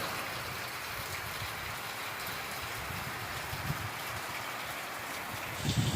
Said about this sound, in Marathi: आज बघा नुसता पाऊसच पाऊस आहे